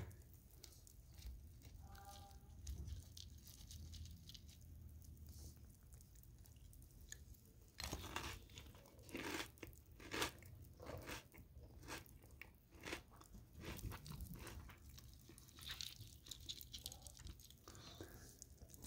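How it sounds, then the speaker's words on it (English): Crunchy cereal is eaten up close in a quiet ASMR setting, with soft chewing at first, then a long run of loud, irregular crunches and wet squishy bites. "I'm going to be eating cereal."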